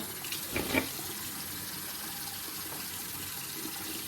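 Water runs steadily from a tap during rinsing, a continuous gentle flow with a brief louder splash near the start.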